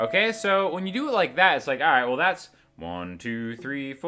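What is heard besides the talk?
No distinct noise like a dog, phone or traffic.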